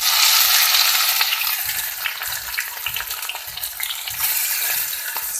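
Chopped onion, green chilli and garlic fry in oil tempered with whole cumin, making a loud, close, crackling sizzle, and a spatula scrapes the pan in a rhythmic series of stirs; nobody talks.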